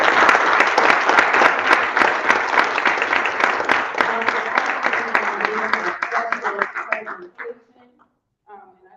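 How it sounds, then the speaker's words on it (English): Applause from a council meeting audience, loud and dense with cheering voices mixed in, tapering off toward the end into a few scattered claps. "So I need to give another round of applause."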